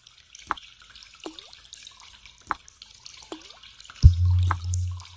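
Slow drops of water falling from leaky shower heads onto a wet prison shower floor in Stonewall Penitentiary, five distinct plinks spaced about a second apart, followed by a low hollow rumble.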